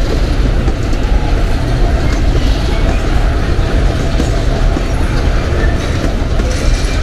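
An empty freight train rumbles past close by in Lagoa da Prata, Brazil, a loud, steady roar of rolling wagons with faint rhythmic clatter running throughout.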